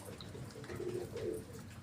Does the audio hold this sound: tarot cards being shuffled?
no